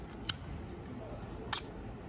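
A Petri 2.8 Color Corrected Super film camera with its shutter set to bulb mode fires twice: a sharp click to open, a pause of just over a second, then a second click to close, quiet and close up.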